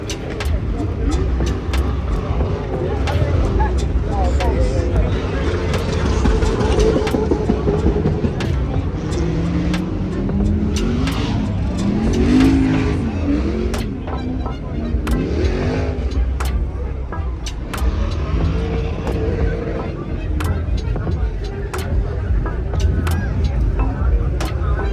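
A Lexus at Fuel Fest 2024, heard from a ride-along, revs hard on its two-step launch control, the engine rising and falling between repeated sharp exhaust pops and crackles, loud and close throughout.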